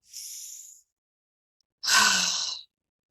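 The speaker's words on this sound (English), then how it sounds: "Take a deep breath." A single deep breath is taken close up: a short airy inhale, a pause of silence, then a longer, louder sighing exhale.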